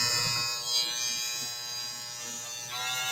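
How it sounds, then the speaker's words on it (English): Electric clippers buzz steadily at close range while trimming the fur around a Maltese dog's paw during grooming, a continuous high whirring hum with small shifts in pitch as the blades move. "So the clipper itself is very gentle."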